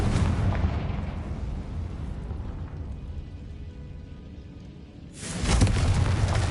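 Hogwarts Legacy game audio: a Confringo spell explosion booms loudly at the start, a quieter rumbling stretch follows, and a second heavy blast bursts near the end.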